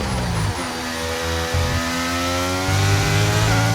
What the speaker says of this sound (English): down into third gear, up to the line, accelerating quickly